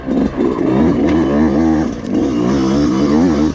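A Yamaha YZ125X two-stroke off-road motorcycle engine revs up and down repeatedly, its pitch climbing and falling in loud, close sweeps with a brief dip midway.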